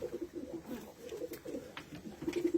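Tumbler pigeons coo in a loft, a soft, low, rolling coo repeating at close range over faint background rustle, with no talking.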